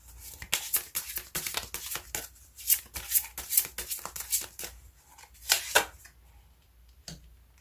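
Tarot cards being shuffled and drawn by hand, a quick run of crisp riffling snaps and flicks close to the mic, pausing briefly before a last few sharp card flips.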